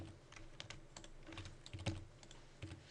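Computer keyboard keys and mouse clicks during Rhino 3D architectural modelling, a steady run of light close-up taps with a few louder clicks, no talking.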